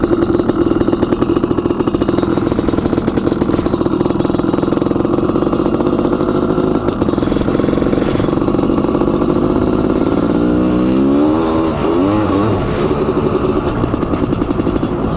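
A Honda CR500AF two-stroke motorcycle ridden around a lake, its engine loud and close with a steady raspy drone that revs up and sweeps through rising, falling pitch near the end.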